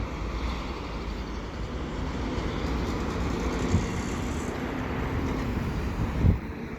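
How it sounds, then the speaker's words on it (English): A CP westbound mixed freight train's last car rolls past near a St. John's Blvd overpass, giving a steady, broad rumble mixed with wind and a couple of brief knocks. "And that's the last car of the train."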